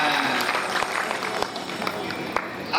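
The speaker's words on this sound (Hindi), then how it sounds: "लो संकल्प, बजा दो ताली जोर से।" A large audience at a devotional Hindi religious discourse clapping hard: a dense, continuous patter of many hands that runs the whole time, with a voice heard over it.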